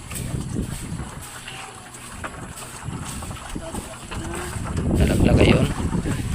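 Strong wind roars and buffets around a small fishing boat at sea, gusting harder toward the end, with faint voices and water noise mixed in.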